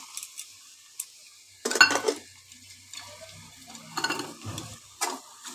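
Chopped onion and carrot frying in a pan, with faint sizzling broken by a few sharp clinks and scrapes of a spoon stirring against the metal.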